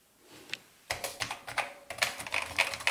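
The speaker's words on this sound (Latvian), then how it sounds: "Kāda briesmīga klaviatūra." Keys clatter on a Schneider CPC computer keyboard, a short burst of close typing that starts after a brief quiet pause and keeps up in quick, uneven clicks.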